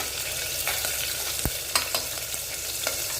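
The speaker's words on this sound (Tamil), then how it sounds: "பச்சை மிளகா வதங்கட்டுங்க" Green chillies and ginger sauté in a hot oiled pan, giving a steady close sizzle with light scraping and stirring clicks throughout and no voices.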